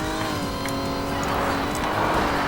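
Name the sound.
car driving and drifting in a video game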